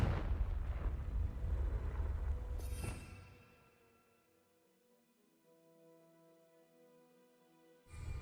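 A Confringo explosion spell in Hogwarts Legacy bursts loudly, a dense roaring blast that rumbles for a few seconds and then fades into a quiet tonal hum before another burst hits.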